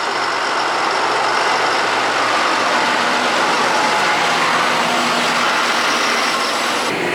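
A 280-horsepower Deutz Fahr 8280 tractor pulls a Kuhn 1290 ID big square baler, producing a loud, constant, dense engine roar with a broad mechanical rush throughout.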